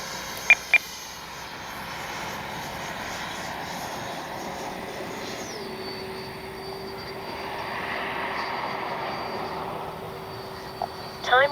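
Freewing 90mm F4 RC jet flying, a sustained electric ducted-fan whine and roar that shifts pitch downward midway as it passes, with a couple of faint clicks.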